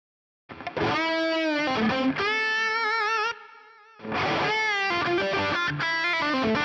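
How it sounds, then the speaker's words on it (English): Electric guitar run through a ping-pong delay with a little spring reverb, playing loud sustained chords and notes whose echoes bounce and trail off, with a short drop to quieter ringing tones midway. "You can hear it ping pong. I have ping pong set."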